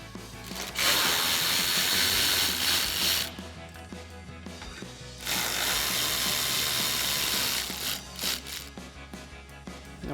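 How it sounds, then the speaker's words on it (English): Ratchet with an 8mm socket backing out taillight screws on a Jeep Gladiator JT, two long bursts of rapid clicking close to the microphone, with a pause between them. "we're going to grab our 8mm socket and remove those"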